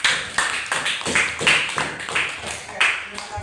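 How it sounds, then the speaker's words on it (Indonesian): Classroom of students clapping together in a loose, irregular burst of claps lasting a few seconds, fairly close and steady. "tepuk tangan buat kita semua"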